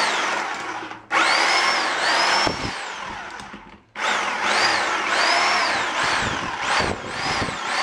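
A whining power tool cuts lids off pumpkins in loud, close bursts, its pitch rising and falling as it bites in, with a brief pause and then a second longer run.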